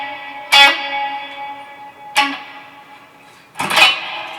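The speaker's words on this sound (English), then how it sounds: "The plate reverb." An electric guitar runs through a plate reverb pedal, playing three strummed chords. Each chord rings out and decays into a long, spacious wash, with no voices.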